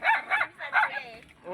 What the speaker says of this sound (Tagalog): tumatahol mga aso, nagagalit na na